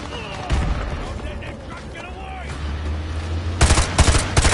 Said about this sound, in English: Firing Chamberlain. Danger close